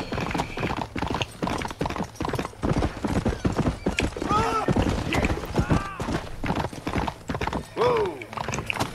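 Horse hooves clip-clop steadily in Red Dead Redemption, with a couple of short whinnies and snorts rising over the hoofbeats, close and fairly loud.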